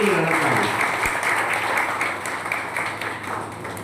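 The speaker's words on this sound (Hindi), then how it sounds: "एक बार तालियां तो बजा दो।" An audience at a drug-addiction awareness event in Delhi applauds steadily, a dense wash of clapping that slowly fades over a few seconds.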